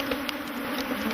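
Honeybees buzzing around hives at an African apiary, a steady low droning hum with faint flickers of individual insects passing, fairly quiet and unbroken.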